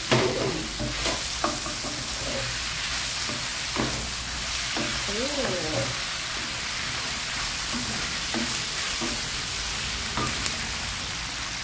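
Pork belly and chili frying in a pan, a loud continuous sizzle and crackle with scattered stirring knocks and scrapes throughout, close up.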